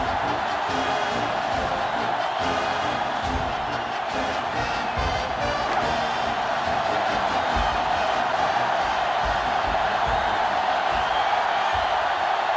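A stadium crowd in the NCAAF 2005 football video game, Ohio State versus Notre Dame, cheers as the defense rallies it: a steady, loud wash of crowd roar running unbroken throughout.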